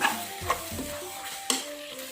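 A spoon stirs seasoning powder into a pot of Thai rice-noodle curry sauce with fermented fish, making soft scraping strokes and a couple of light knocks over a steady background sizzle.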